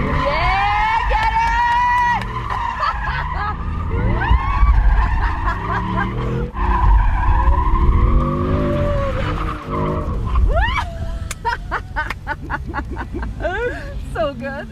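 Dodge muscle car skidding with tire squeal at a thrill ride, engine revving loudly throughout while people shout and talk excitedly over it.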